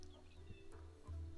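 Chickens cluck softly in the video game Sacred 2, a few short, faint calls over quiet game ambience.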